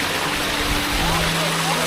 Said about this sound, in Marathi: तिथे समोर दिसतंय प्रॉपर धबधबा आहे